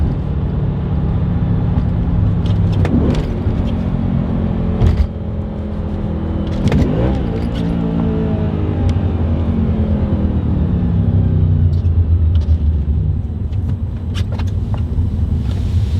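An Audi B7 RS4 with a manual clutch driving and slowing to a stop at a light, its engine rumbling steadily from inside the cabin, with gear-shift revs rising and falling and small knocks and clicks along the way.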